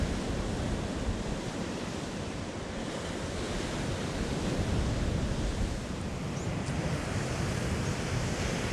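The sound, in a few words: sea swell waves on Northumberland shore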